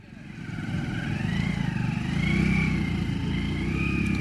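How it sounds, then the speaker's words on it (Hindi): A small motorbike rides along an unpaved dirt track, its engine droning steadily and rising slightly in pitch as it runs, with a faint background voice. "देख रहे हैं आप ऐसे कच्चे रास्तों में खुद बाइक चला रहे हैं"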